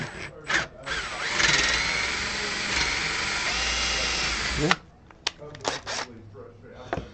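A power drill bores holes into a kit Les Paul-style guitar body, a loud, close whir lasting about four seconds, then stopping, followed by a few clicks and handling knocks.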